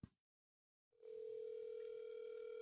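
A phone ringback tone sounds while a call waits for an answer: after a short click and a second of silence, a steady, loud, continuous electronic tone holds to the end.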